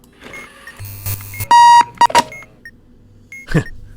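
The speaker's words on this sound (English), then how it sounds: "That was serendipity, turning off the alarm clock with those 2 buttons." Electronic alarm clock beeping in the bomb-defusal video game Keep Talking and Nobody Explodes, with a loud sustained beep and several short bleeps amid other synthetic tones and clicks, no speech.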